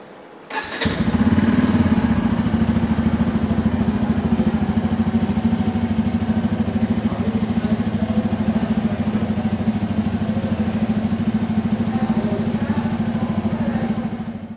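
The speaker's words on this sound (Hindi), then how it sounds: "एक बार मैं आपको बाइक का एग्जॉस्ट सुनाता हूँ बाइक स्टार्ट करके" A 2024 Bajaj Pulsar N250 motorcycle with a dual-barrel exhaust starts with a sharp catch, then settles into a steady, throbbing idle with a deep exhaust burble, close by and continuous.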